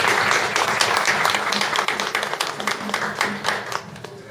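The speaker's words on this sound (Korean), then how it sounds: "큰 박수 부탁드립니다" A small audience at a talk-concert event applauds to welcome a guest speaker, with clapping that is less dense, so individual claps stand out in an uneven rhythm before it tapers off.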